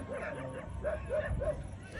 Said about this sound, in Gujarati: મને ખબર નહીં ભસે છે એનો અવાજ આવતો હોય કે ન આવતો હોય